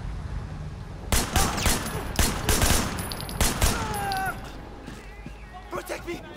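Bursts of gunfire in the open-world action game Sleeping Dogs: several loud, rapid volleys of shots in quick succession, then sparser distant pops, with a voice talking underneath.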